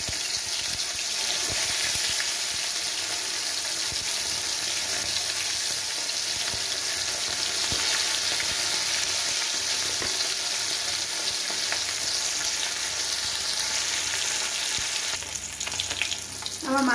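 Koi fish sizzling in hot oil in a home kitchen, a loud continuous crackling fry that holds steady throughout, with faint scraping and a brief clatter near the end.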